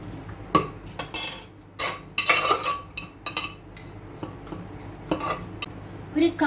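Spoon scraping and clanking against a pot while mutton biryani masala is stirred, in irregular close metallic knocks and scrapes with short pauses between strokes.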